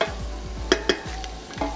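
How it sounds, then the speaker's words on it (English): Onions sauteing in a pan sizzle steadily while a utensil stirs and scrapes, with a few sharp clinks against the pan, close and clear with no talking. "You can hear the sizzle, right? It's very important that you're hearing the sizzle when you're sauteing onions."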